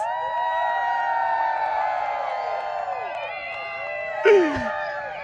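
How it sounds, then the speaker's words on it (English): A steady outdoor crowd at the 2024 total solar eclipse in Indiana cheers and whoops, many voices blending into a sustained roar, with one louder shout rising briefly near the end. "You can hear the crowd behind us."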